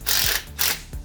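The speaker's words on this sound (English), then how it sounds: "He's finishing putting some bolts up in for the transmission" Quick ratchet cranks while bolts are tightened on a transmission being installed behind a HEMI engine, three close, loud bursts of buzzing clicks within a second, no talk.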